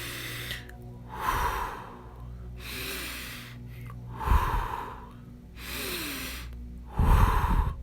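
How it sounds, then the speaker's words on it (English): A steady meditation breathing pattern is demonstrated: slow, deep breaths repeat in a regular rhythm, three loud exhalations or sniffs roughly every three seconds, close and alone. "you have a steady breathing pattern"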